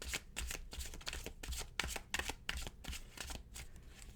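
Oracle cards are shuffled in quick, papery riffles and slaps, a close, crisp run of repeated bursts with no talking.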